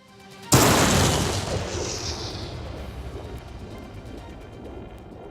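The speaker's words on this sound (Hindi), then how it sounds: "और एक धमाका" A sudden heavy explosion booms in Bardhaman, then a long rumbling roar slowly fades away, loud and alone with no voices.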